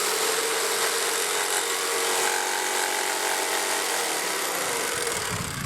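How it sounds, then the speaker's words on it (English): A power drill boring into a workpiece from the corners to cut a wind charm, a continuous high whining buzz, loud and close, easing slightly at the end. "I'm just drilling in from the corners."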